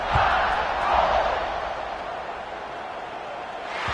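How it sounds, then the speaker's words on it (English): Large football stadium crowd at an Alabama–Auburn game buzzing after a score, a dense, loud roar of voices swelling and then holding steady. "this crowd is buzzing after that last score"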